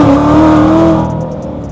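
Hard acceleration from a 900-horsepower Corvette C7 Z06 in second gear from about 40, a loud close engine roar with rising pitch that then fades away.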